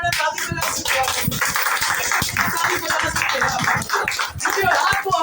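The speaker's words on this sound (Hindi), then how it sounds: "ताली बजाने का मन है, ताली बजा सकते हैं" Congregation clapping along during a Hindi-language church service, brisk rhythmic hand claps filling the room under a voice speaking.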